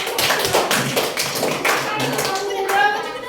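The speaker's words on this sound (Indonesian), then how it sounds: "Oke, tepuk tangan untuk teman." A class of schoolchildren clapping for classmates after a group presentation, quick uneven claps close by in a small room, with children's voices briefly audible toward the end.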